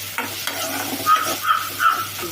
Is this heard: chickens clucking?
no